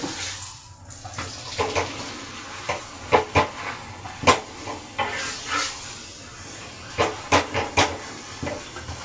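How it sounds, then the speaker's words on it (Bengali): Paratha frying in oil in a pan gives a quiet bed of bubbling with scattered sharp crackles and spits that come irregularly throughout. "এই যে পরোটাটা ভেজে নিচ্ছি।"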